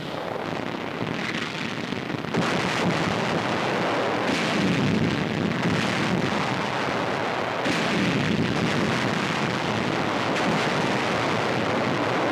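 Tank gunfire and shell explosions in a wartime battle film, repeated heavy booming blasts with rumbling noise between them, loud and dense throughout with wind-like noise.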